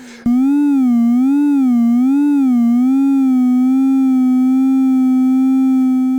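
A bright, steady Arturia MiniBrute 2S analog synthesizer tone wobbles in pitch with a smooth, regular sine-wave LFO vibrato that gradually settles into a held, nearly straight note.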